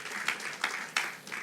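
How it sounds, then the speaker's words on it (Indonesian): A church congregation claps at a worship night, in a few rhythmic bursts that swell and fade, heard at a moderate level with no talking over them. "Berikan tepuk tangan dulu untuk Tuhan,"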